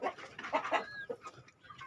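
Chickens kept on a poultry farm clucking close by, a burst of quick, overlapping clucks followed by a short squawk and a few softer calls.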